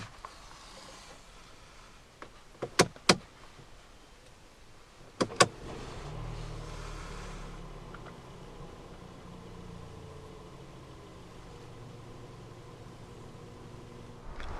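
A 2016 Mercedes-Benz A 180 Sport starting with the doors closed: a couple of sharp clicks, a brief starter burst, then the engine settles into a low, quiet, muffled idle heard from inside the car.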